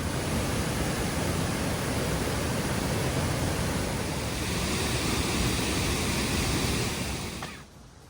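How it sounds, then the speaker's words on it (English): A waterfall on Upolu, Samoa, roars as a broad, steady rush of falling water, loud and constant before cutting off abruptly near the end. "and now it's waterfalls"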